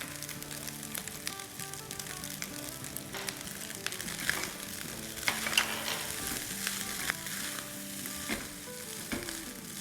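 Fried rice stir-fried on high flame, a steady close sizzle with frequent scraping and clattering spatula strokes against the pan, running alone without talk and under faint background music tones.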